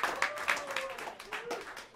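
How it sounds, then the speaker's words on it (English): Small audience applauding at a live jazz club set, with a faint, scattered patter of claps under a soft background voice and room tones. "Have a round of applause for him"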